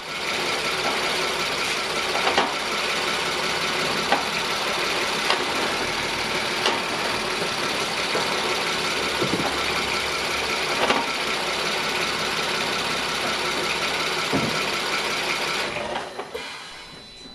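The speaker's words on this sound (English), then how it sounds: "You could see how much the engine was bucking" Audi TT Mk2 8J engine running with a faulty mechatronic unit, a steady buzzy mechanical drone broken by irregular knocks and jerks as the engine bucks, continuous and close.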